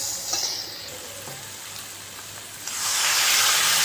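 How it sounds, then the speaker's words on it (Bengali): Prawns frying with turmeric and spices in a pan for a Bengali prawn and malabar spinach dish, a steady close hiss that swells into a louder, brighter sizzle near the end, with no talking. "চিংড়ি মাছ দিয়ে দিলাম, সব কিছু এবার ভেজে নেবো একটু।"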